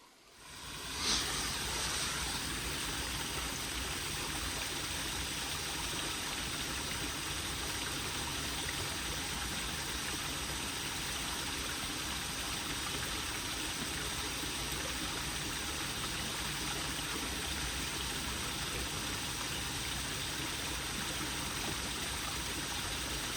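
A nearby stream flows in an unbroken, even rush of water, moderately loud and close, starting after a brief quiet moment and continuing alone for over twenty seconds without voices.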